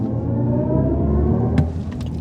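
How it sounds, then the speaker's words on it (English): BMW i5 xDrive40 electric car accelerating quickly on a city street in Toronto, its synthetic drive sound by Hans Zimmer swelling as a steady low hum and whir, heard from inside the cabin with no talking. "you heard the amazing Hans Zimmer sounds for a quick acceleration on the streets of Toronto"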